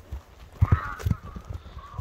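A horse's hooves strike the ground in an irregular series of close, soft thuds, mixed with faint background noise.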